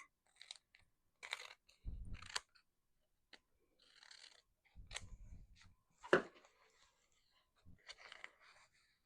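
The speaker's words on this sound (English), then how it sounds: "So I'll just, kind of loosely cut these." Scissors loosely snipping fabric backed with adhesive, a few separate quiet cuts and crunchy snips with pauses between them.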